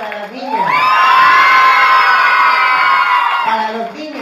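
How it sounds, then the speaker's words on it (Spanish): A crowd of children cheers and shouts loudly for the girls in a sustained roar lasting about three seconds, with an adult voice speaking briefly before and after. "El aplauso para las niñas."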